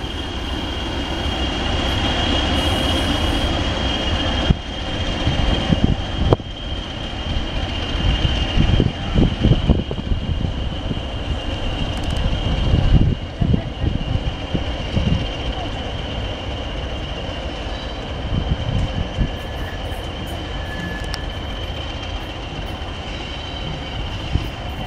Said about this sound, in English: I think they're reversing into the